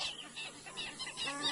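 Alarmed birds calling repeatedly while mobbing an anaconda in the wild, a rapid series of harsh, clucking cries close by with no talking.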